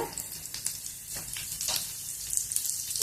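Mustard seeds and dried red chillies splutter in hot oil, giving a faint, crackling sizzle with scattered pops and hiss throughout, close by and without voices.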